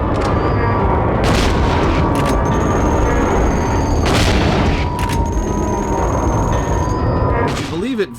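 Shotgun blasts in Silent Hill 2, several heavy booming shots a second or two apart over dense, loud game noise, with a voice talking over them.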